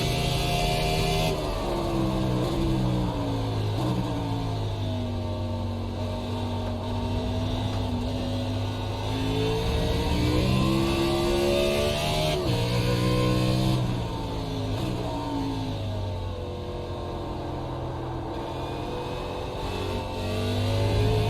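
A Cup Series stock car engine revs hard around Road America in the iRacing sim, its loud, continuous drone climbing and dropping in pitch through gear changes and corners, with no talking.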